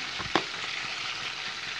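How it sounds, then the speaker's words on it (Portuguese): Chicken breast rolls fry in oil in a pan, giving a steady, close hiss of sizzling with a few small pops and a brief clatter near the start, and no talking. "Aí, ela tá fritando."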